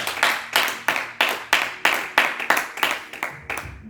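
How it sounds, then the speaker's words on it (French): A church congregation claps in unison at a sermon, a steady run of about a dozen sharp, evenly spaced hand claps carrying close and loud over roughly four seconds. "Acclamons la parole de Dieu au nom de Jésus-Christ."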